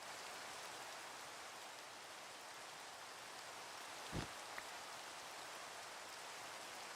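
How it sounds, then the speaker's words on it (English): Steady, even rain falling in the video game Minecraft, a constant close hiss that fills the scene without pause, broken only by a brief soft thump partway through. "Oh, it's bloody raining again."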